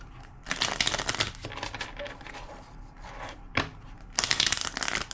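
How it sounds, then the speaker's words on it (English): A deck of tarot cards being shuffled by hand, crisp riffling and papery rustling in several bursts with quieter handling between, close and fairly soft. "Two more shuffles."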